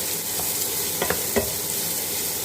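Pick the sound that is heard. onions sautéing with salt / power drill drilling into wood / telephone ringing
onions sautéing with salt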